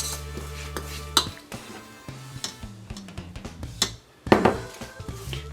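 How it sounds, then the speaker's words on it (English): An egg being whisked in a bowl with milk for cornbread batter: light, irregular scraping and clinking of the whisk against the dish, with a few sharper knocks, close and moderately quiet. "whisk the egg a little bit"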